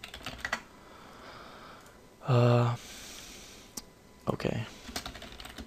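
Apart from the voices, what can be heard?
typing on a computer keyboard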